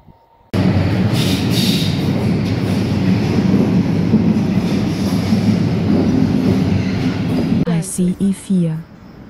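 A Deutsche Bahn ICE 4 high-speed train roars past close by, a sudden loud onset followed by a steady broadband rush that continues for several seconds before tailing off into choppy fragments.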